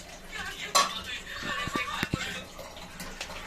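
Butter simmers into ghee in a pot as a metal spoon stirs and scrapes, giving close clinks and knocks against the pan in an irregular rhythm over a low background hiss.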